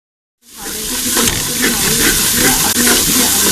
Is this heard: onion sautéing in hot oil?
yes